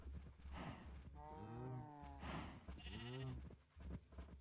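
Cows in Minecraft moo in drawn-out, low calls, three or four separate moos overlapping one another over a quiet background, fairly faint.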